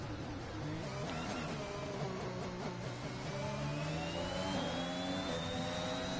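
Engine whine of a Formula-style racing car in a sim league race at Le Castellet, France, as it spins off track, with steady loud revving and gliding pitch sweeps throughout.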